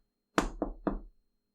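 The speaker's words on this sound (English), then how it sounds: "Who's knocking on my door at this hour?" Three sharp knocks on a door in quick succession, close and distinct, followed by silence in a quiet room late at night.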